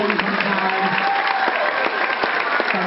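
Audience applause for the chaperones at a Showoff Dance stage show, a dense, steady burst of clapping from a crowd with no break.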